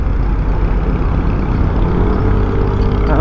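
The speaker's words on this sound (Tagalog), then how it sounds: "Lalaki ng truck." A big truck rolls along a congested road in San Fabian, Pangasinan, its deep engine rumble loud, close and continuous with no break, heavy low-end drone filling the whole stretch.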